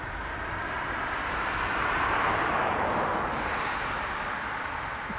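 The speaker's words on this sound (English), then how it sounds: "Ryanair to Milan Malpensa with an intersect departure" A Ryanair jet takes off from Dublin Airport bound for Milan Malpensa, a broad, sustained jet roar that swells slightly in the middle and holds steady, heard from a distance with no talk.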